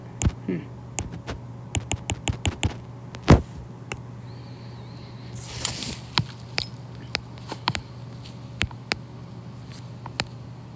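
Keyboard typing, entering numbers into a data grid: separate sharp key clicks in uneven bursts with short pauses, close to the mic over a steady low hum, with one louder thump and a brief noisy stretch in the middle.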